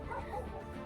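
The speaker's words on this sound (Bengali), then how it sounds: "কুকুরের ডাক আর ঝিঝির ডাক শোনা যাচ্ছে।" A dog gives a short, faint bark and yip on a quiet roadside in Kalimpong town, North Bengal, heard once in the distance.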